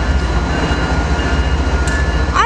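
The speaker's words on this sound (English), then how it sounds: "here off goes this freight train" A freight train pulls out in San Bernardino, its loud, steady rumbling roar close by, ending in a brief high wheel squeal, with no talk.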